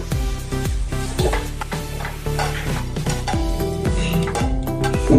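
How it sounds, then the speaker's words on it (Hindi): Red chilli powder, garam masala and cumin powder are stirred into turmeric-laced dal, with a spoon repeatedly scraping and ringing against the metal pan in a close, steady rhythm under a light sizzle. "अभी इसको अच्छे से मिक्स करेंगे"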